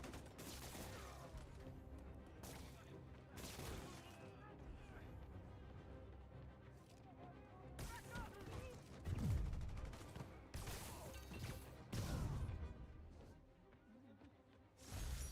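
Gunfire erupts in a Spider-Man video game as thugs in a store open fire. Repeated bursts of shots and volleys ring out with heavy impacts and swooshes, mixed with voices talking.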